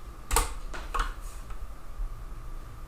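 Someone types on a computer keyboard, a few distinct clusters of key clicks near the start followed by lighter scattered taps, close and clear with no talking.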